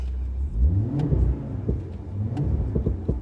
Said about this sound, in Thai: ดูเสียงเครื่อง ดูเสียงเครื่อง